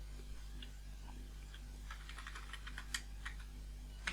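Keys clatter on a computer keyboard while a job search is typed into Google, with short bursts of quick clicks over a steady low hum, fairly faint and close.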